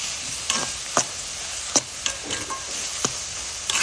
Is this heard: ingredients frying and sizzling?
yes